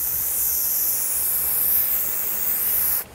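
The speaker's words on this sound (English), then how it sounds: "And just spray down. Tire and rim, easy, both sides." A continuous hiss of cleaner sprayed onto a tire and rim, steady and close, stopping abruptly at the end.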